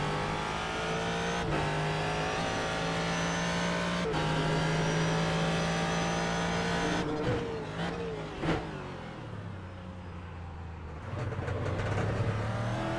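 Ford GT3 race car in iRacing at Circuit of the Americas, its engine droning loud and steady with rising pitch through the gears, then dropping and revving back up as it brakes and exits a corner.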